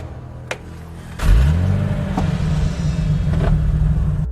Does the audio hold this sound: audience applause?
no